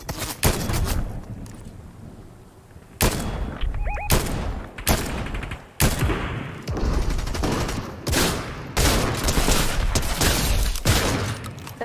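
Dense gunfire in a Fortnite match, with repeated sharp bursts and volleys cracking one after another across the whole stretch, loud and close, sometimes overlapping in rapid clusters.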